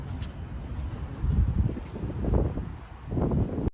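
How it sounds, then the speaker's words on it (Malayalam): Strong gusting wind buffets the microphone outdoors during a city walk in Baku, Azerbaijan, a steady low roar that swells and eases in surges across the whole stretch with no voices. "ഇവിടെ ഭയങ്കര കാറ്റ്"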